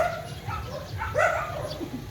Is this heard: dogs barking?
yes